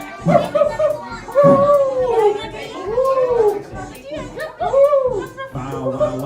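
Children at a kids' music class imitate dog barks and woofs together, giving several rising, yelping voiced barks close by, mixed with laughter and chatter.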